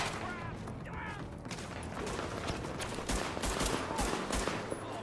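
Gunfire in Tom Clancy's The Division during a Lincoln Tunnel co-op mission with shields and shotguns: continuous sharp shots and crackling bursts, growing denser and louder toward the end, with players talking underneath.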